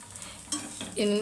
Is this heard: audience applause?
no